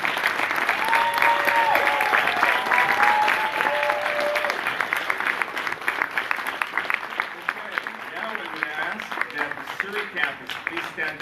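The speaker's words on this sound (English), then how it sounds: "If we could have a big round of applause for the Vancouver campus." A graduation ceremony audience at a Surrey career college gives a big, sustained round of applause. Dense, even clapping fills the whole stretch, with a voice or tone heard briefly near the start and the clapping thinning slightly toward the end.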